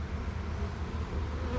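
A dense, steady, low drone of many honeybees buzzing close up fills an open hive during an autumn inspection, continuous and unbroken.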